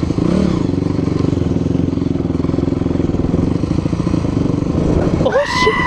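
A trail motorcycle engine runs loud and close with a rough, pulsing throb that stays steady, then revs up near the end. A voice speaks briefly over the engine.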